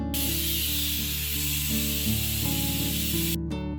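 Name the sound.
pressure cooker whistle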